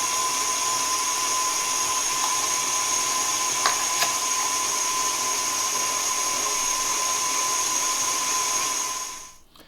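An electric meat grinder works burger meat with a continuous, high, whining motor drone. The sound is loud and steady throughout, with a few brief clicks in the middle, and it cuts off near the end.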